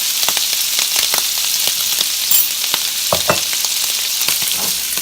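Cooked sausage sizzles hard in a hot pan, a loud close crackling hiss with scattered scraping clatters as pieces are lifted out into a bowl, and no talking.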